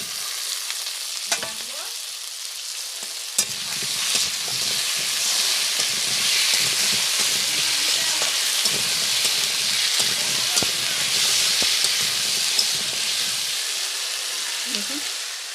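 Taro roots (kochur mukhi) frying in a pan of oil, a dense sustained sizzle that swells after a few clicks and clatters, with intermittent stirring scrapes and knocks throughout.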